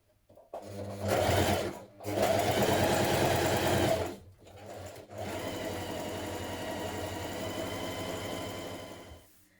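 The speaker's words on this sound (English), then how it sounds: "you can stitch around your pocket pieces" Sewing machine stitching around pocket pieces on cozy trousers, close and steady, in three runs with brief pauses between, the last run long and even, with no talking.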